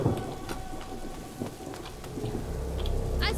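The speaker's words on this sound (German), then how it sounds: "Der Sturm übertönt unsere Stimmen." A stormy scene in the video game A Plague Tale: Innocence, with steady rain pattering on surfaces and rumbles of thunder rolling underneath, continuous throughout and moderately loud.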